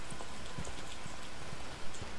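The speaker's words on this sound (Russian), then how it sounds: "Но ведь дождь начинается." Steady rain falling in the video game Batman: Arkham Asylum, a constant broadband hiss with scattered soft drops and patters, moderately faint and without speech.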